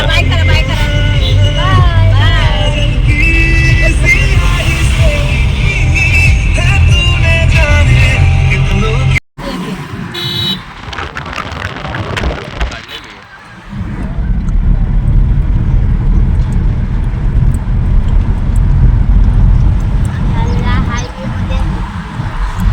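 A car driving on a road in the Raigad area of Konkan, with a low, steady engine and road rumble under talk from people inside, a brief dropout midway, then the drive continues.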